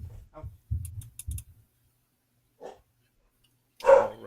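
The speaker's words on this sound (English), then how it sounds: "Oh, my dog, Mitzi, get out of here if you're gonna make that noise" A dog barks indoors in a few short sharp bursts close by, followed by a pause, a faint sound and a louder final bark.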